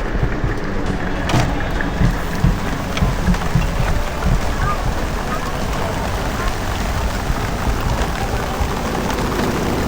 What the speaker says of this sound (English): And sometimes it rains.